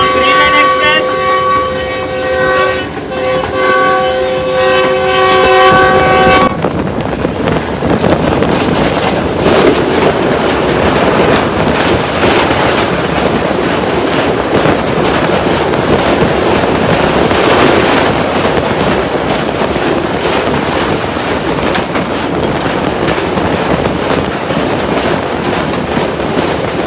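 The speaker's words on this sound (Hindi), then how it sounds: "जा रही है ग्रीन लाइन एक्सप्रेस।" Green Line Express train in Pakistan passing close by, opening with a loud sustained multi-tone horn, then a steady heavy rumble and clatter of wheels that carries on throughout.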